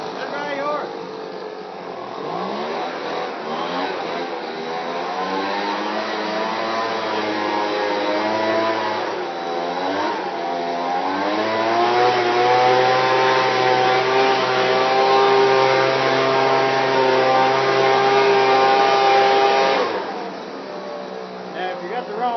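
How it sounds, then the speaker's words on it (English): A steady, loud blower-type whoosh like a leaf blower comes from a hair dryer for horses, running continuously with slight shifts in pitch. "There is a hair dryer for horses."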